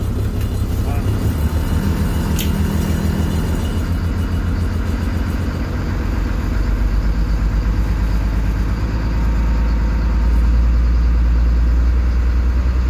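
A 2006 Thomas FS-65 school bus with a Caterpillar C7 diesel engine idles steadily after a cold start at -8 °C, a loud, close, continuous low rumble with a faint voice talking over it.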